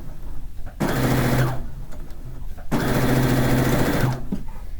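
A sewing machine stitches a seam on a fish quilt in two loud, steady bursts of rapid whirring, each about a second or more long, with brief quiet gaps between them.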